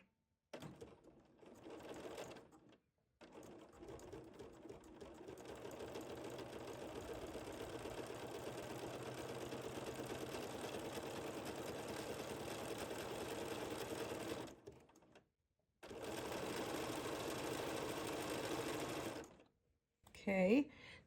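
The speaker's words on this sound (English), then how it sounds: "And now I'm going to line this up and put my foot down and stitch." Sewing machine with a circular embroidery attachment running a decorative stitch in long steady whirring bursts, stopping briefly twice, with a brief voice near the end.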